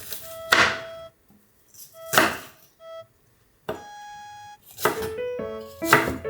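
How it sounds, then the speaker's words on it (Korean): A knife chops onion, mushrooms and garlic on a cutting board in a few separate, crisp strokes with pauses between them, close and clear, along with faint ringing kitchen tones. "마늘을 썰어준다"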